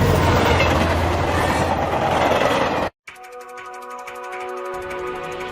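Train running in an anime scene, a steady loud rumble and clatter of rail wheels that cuts out abruptly midway, then gives way to a quieter, tonal mechanical hum with rapid ticking.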